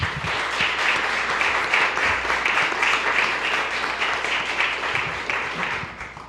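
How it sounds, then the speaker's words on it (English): Steady round of applause from an audience at a county freeholders' special presentation honoring Miss New Jersey Junior High School, dense and continuous for several seconds with no speech over it. "I think that deserves a round of applause"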